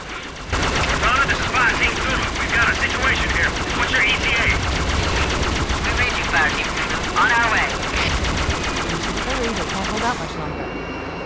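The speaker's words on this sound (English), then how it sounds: "blast the enemy with its plasma cannons" Plasma cannons on the Ghost vehicle in Halo: Combat Evolved fire in a rapid, continuous stream of loud repeating shots over engine hum and battle noise, with scattered alien chatter, cutting off near the end.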